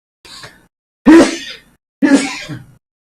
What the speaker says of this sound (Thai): คนจามนั่นก็เสียงเปลี่ยนด้วยนะ